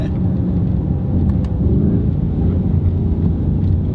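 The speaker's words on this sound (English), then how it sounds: "This sounds great. A BMW Burble." A BMW's exhaust gives a deep, loud, continuous low burble and rumble, steady throughout with no talking.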